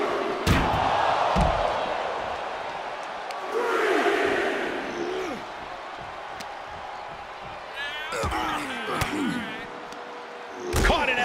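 Arena crowd in the WWE 2K24 wrestling video game roaring in swelling bursts, mixed with sharp slams and thuds from the ring, under commentary voices.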